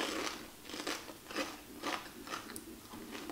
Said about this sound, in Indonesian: Kalau benar-benar kriuk atau enggak?